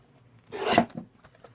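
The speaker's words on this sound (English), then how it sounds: "let's trim this down just a little bit." Paper is trimmed for a handmade journal, making one brief, close rasping rub that swells and fades in the quiet.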